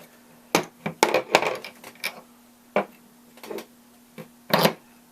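Metal washers and parts clink and clatter close up in irregular bursts as cast Ronin skateboard trucks are taken apart, including pressed stainless steel washers, with a faint hum between.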